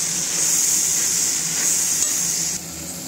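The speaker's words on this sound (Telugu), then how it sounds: "ఇప్పుడు కలుపుకోవాలి." Sesame seeds and ivy gourd stirred in a hot pan give a steady, close sizzling hiss with faint scraping, no talking over it.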